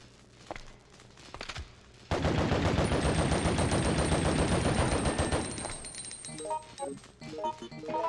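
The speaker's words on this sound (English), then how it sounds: "I'm gonna shoot it open and just pray." Resident Evil video game assault rifle firing a rapid, sustained burst at a locked door for about three seconds, loud and close, after a quieter stretch with faint clicks and before a lighter rattle of sounds.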